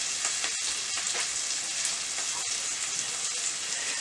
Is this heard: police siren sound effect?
no